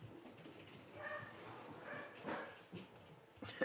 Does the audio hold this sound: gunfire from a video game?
no